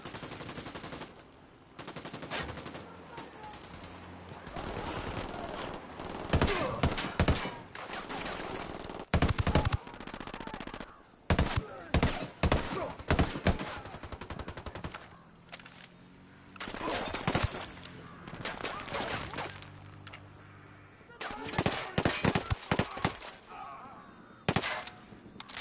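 Machine gun fire erupts in repeated bursts during a Ghost Recon Wildlands firefight, loud sharp volleys with short pauses between them, spread across the whole stretch.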